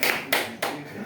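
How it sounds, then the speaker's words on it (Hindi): During a class session, a few sharp hand claps land at a slow, even pace, close and fairly quiet, with no talk. "एक बार जोरदार ताली हो जाए"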